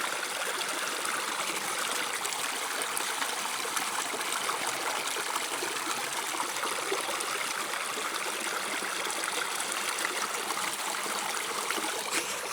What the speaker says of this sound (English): We're gonna send half of this bucket in through this beautiful sluice.